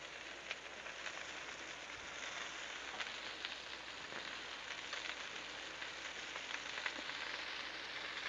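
Bacon strips sizzle on a hot Blackstone griddle with a steady, faint crackle and a scatter of sharper pops, and no voices.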